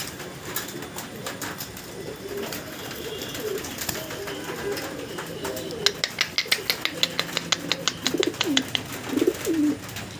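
Pigeons coo nearby with soft throaty calls, alongside rustling and a run of quick tapping sounds as they are packed into a carton for delivery, with faint voices in the background.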